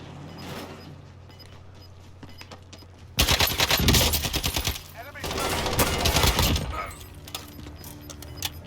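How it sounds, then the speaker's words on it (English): Loud Battlefield video game gunfire erupts after a few quiet seconds in bursts of rapid automatic shots with sharp cracks, pausing briefly before another sustained volley, then easing to a low background rumble. "I really wish that guy did not shoot that much"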